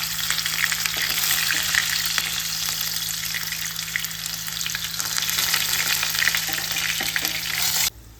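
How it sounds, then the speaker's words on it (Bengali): Red lentil paturi parcels frying in a pan over medium to low flame, a loud, dense, unbroken sizzle held close throughout, cutting off abruptly at the end, with no talking. "আমি আর একটা পিঠ ওইভাবেই ভেজে নেব।"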